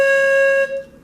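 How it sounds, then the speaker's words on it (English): A breathy tone sounds as someone blows across the open end of a cylindrical tube closed at the other end. It is a single steady pitched note with overtones, close and fairly loud, lasting about half a second before fading. "If I close one end, blow the other end, it's something like this."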